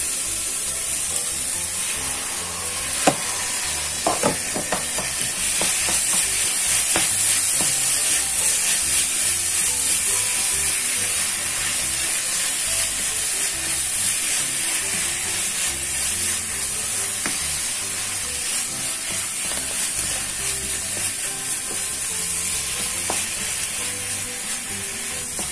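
Minced meat fries in a pan with a continuous loud sizzle and hiss, while occasional scrapes and clicks from stirring sound close by.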